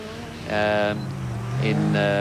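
A Volkswagen Golf Class C rally car pulls away on a rally stage, its engine giving two short, steady revving bursts close by.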